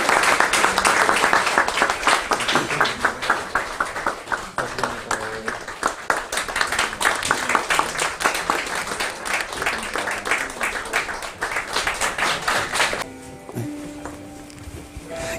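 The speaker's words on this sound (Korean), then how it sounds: "박수 한번 합시다" Church congregation at an ordination service clapping loudly and steadily for about thirteen seconds, then stopping abruptly as quiet music and a voice follow.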